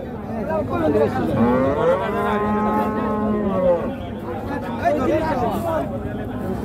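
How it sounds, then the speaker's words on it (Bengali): A crossbred cow, local breed crossed with another, moos in several long, loud, drawn-out calls close by, amid the chatter and bustle of a busy cattle market crowd before the Qurbani Eid sale. "এটা একটি ক্রস জাতের গরু, দেশের বীজের ক্রস দিয়েছিল।"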